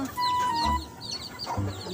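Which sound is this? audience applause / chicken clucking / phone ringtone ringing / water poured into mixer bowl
chicken clucking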